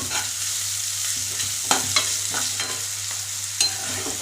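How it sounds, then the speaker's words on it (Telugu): Vegetable manchurian mixture with spring onions and salt sizzling in a pan, a steady frying hiss broken by a few sharp scraping stirs, close and moderately loud, no voices. "కొద్దిగా సాల్ట్ వేసుకున్నాం కొద్దిగా కొంచెం ఫ్రై అవనిద్దాం"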